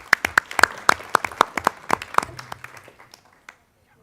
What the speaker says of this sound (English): And a round of applause for our special guests.